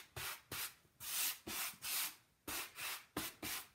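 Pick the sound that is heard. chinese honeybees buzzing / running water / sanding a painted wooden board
sanding a painted wooden board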